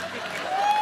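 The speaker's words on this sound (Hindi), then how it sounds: "जोरदार तालियां।" A studio audience on a comedy talk show applauds, a dense wash of clapping that swells slightly toward the end, with a sustained musical tone rising over it.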